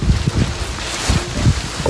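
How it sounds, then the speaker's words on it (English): Gusty wind buffeting the microphone, a low rumbling rush with soft rustling over two seconds. "it's just windy."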